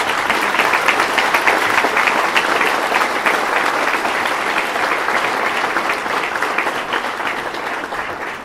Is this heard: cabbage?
no